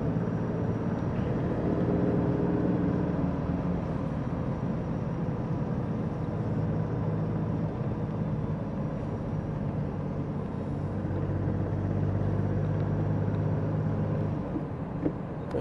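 A 1971 Citroën SM with its Maserati engine accelerates gently and shifts into fourth gear, a steady, moderately loud drone of engine and road noise from inside the car with a brief dip around the shift.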